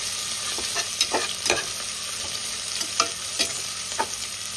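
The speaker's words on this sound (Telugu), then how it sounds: "ఆనియన్స్ కూడా ఇందులోకి యాడ్ చేసుకుందాం. ఆనియన్స్ కొద్దిసేపు మగ్గనివ్వాలి" Chopped onions fry in a pan for a green bean curry, a steady close sizzle with several short bursts of spoon stirring scraping through it. No voices.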